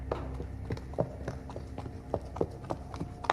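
Horse hooves clip-clopping on the ground in a steady walking rhythm, moderately faint and repeating evenly against a soft background hum.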